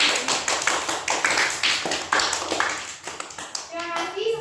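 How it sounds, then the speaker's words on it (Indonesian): A class of schoolchildren clapping their hands together in irregular bursts, close and fairly loud, while children's voices chatter underneath. "tepuk tangan untuk kalian semua"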